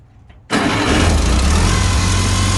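A Farmall Cub tractor engine, just fitted with new spark plugs, catches instantly after a brief quiet moment and settles into a loud, steady, close-up idle.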